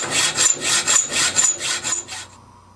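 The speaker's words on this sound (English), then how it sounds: "I'm going to lock the hacksaw into the grooves that I've already cut in the barrel, and then I'm going to saw right down to the jaws of the vise" Hacksaw cutting through the metal barrel of a hand-forged butterfly hinge clamped in a vise, giving about eight rapid, rasping back-and-forth strokes at close range before the sound stops.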